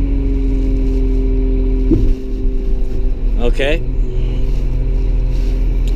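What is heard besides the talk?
front end loader engine while tilting the bucket with a lever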